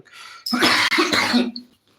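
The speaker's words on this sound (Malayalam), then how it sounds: "ഐസ്ക്രീം ഒക്കെ കുടിച്ചോണ്ട് ചുമ വന്നത്" A single harsh cough bursts out close by, rough and throaty, lasting about a second before fading into quiet.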